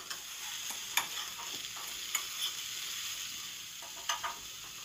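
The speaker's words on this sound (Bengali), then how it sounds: "এবার উল্টে পাল্টে খুব ভালো করে ঢাকা দিয়ে দিয়ে ভেজে এগুলোকে বেশ জল বের হয়ে যাওয়া অবধি ভাজতে হবে।" Sliced ridged gourd frying in a pan and being turned over, a soft continuous sizzle broken by occasional scrapes and clinks of the spatula, fairly quiet and close with no voices.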